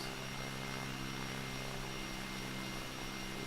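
Jet engines spooling up on a ship-like craft in the SimplePlanes flight game, a steady loud broadband roar with a constant tonal hum that holds evenly throughout, no talk.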